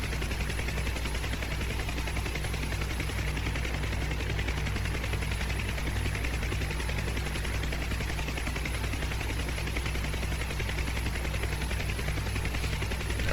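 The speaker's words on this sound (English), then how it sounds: "Okay, everybody wave at CajunJosh over in his Mi-8 while he fights it to try to get it started" An Mi-8 helicopter in the combat flight simulator DCS World, its engines spinning up for a start, gives a steady, dense broadband roar with low rotor throb, loud and unbroken, with no talking.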